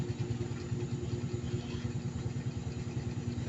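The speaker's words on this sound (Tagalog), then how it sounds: "May maingay sa labas. Motor yata yun." A motorcycle engine running outside a home, a faint steady low rumble with rhythmic puttering that stays distant throughout.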